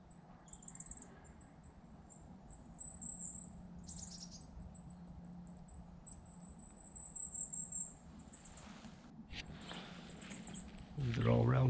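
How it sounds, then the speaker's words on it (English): Thin, high calls of blue tits, great tits and long-tailed tits chatter on and off among the trees, faint over a steady background of outdoor rumble and footsteps. "you might be able to hear a flock of blue tits, great tits, long-tailed tits"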